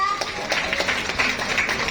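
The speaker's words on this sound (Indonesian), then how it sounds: "Hari ini boleh beri tepuk tangan yang meriah." Brief applause at a business seminar in Surabaya, a dense patter of clapping from an audience in a room, with a voice speaking over it.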